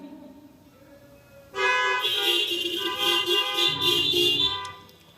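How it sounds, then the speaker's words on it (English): A loud, sustained honk blares for about three seconds, a bright buzzing horn tone with a lower tone joining near the end before it fades. "A car horn honk for an emotion."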